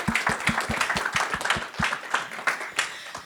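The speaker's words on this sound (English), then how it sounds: "Come on, let's clap our hands." A small group claps their hands in a brisk, fairly steady rhythm, close by, with faint voices mixed in.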